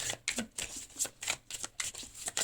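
Someone cuts and handles a deck of tarot cards close by. Quick, quiet riffling bursts of card-on-card flutter repeat in an uneven rhythm.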